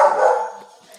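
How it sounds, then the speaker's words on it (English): A dog gives one short, moderately loud bark in the background, and the sound fades quickly. "Have dogs barking in the background."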